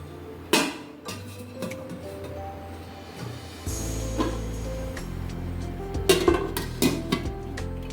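A metal lid set over a pot used to bake a homemade cake, with a sharp clank near the start followed by a few more clinks and a low steady hum in a home kitchen.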